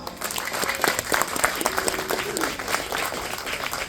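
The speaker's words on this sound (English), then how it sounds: "Give them a round of applause" Applause from a gathering of friends and neighbours at a backyard house party, a dense patter of many hands clapping steadily and fairly close, with a few voices mixed in underneath.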